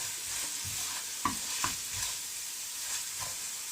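Onions salted and sautéing in a pan for South Indian hotel-style upma make a continuous gentle sizzle, with a spoon scraping and tapping through it in irregular strokes nearby.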